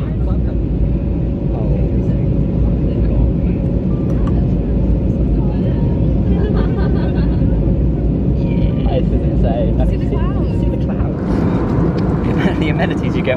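Loud, steady roar of an airplane cabin during landing, with deep engine rumble throughout and faint clunks and rattles toward the end.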